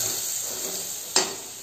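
Masala sizzles in hot oil in a pot, a steady close hiss with one brief louder burst near the end.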